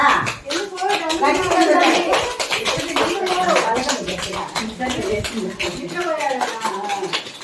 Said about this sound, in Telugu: క్లాప్స్ గట్టిగా నాకు వినిపించరా